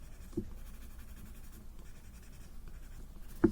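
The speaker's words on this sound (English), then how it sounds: "blend the pencil that you have put on both the sides" Pencil rubbed and blended across paper in a drawing: a soft, continuous faint scratchy hiss close by, with a couple of brief louder taps at the start and near the end.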